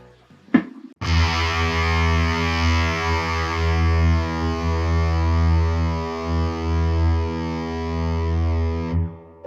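An electric guitar played through a Warm Audio Foxy Tone Box octave fuzz with heavy reverb: a brief plucked lead-in, then a long sustained, buzzy distorted chord that rings out loudly before cutting off.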